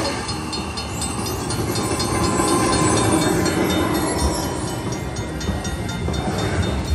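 Rumbling train effect from a Cash Express slot machine, a steady dense roar of rolling wheels with faint clicking, continuous and loud throughout without talk.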